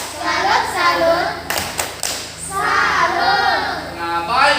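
A primary school class chants and claps a rhythmic 'tepuk salut' routine in an Indonesian fourth-grade lesson, with children's voices calling out in unison between bursts of sharp, closely spaced hand claps.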